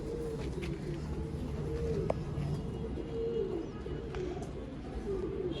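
Low, steady pigeon cooing runs throughout, with faint chirps and other ambient sounds mixed in.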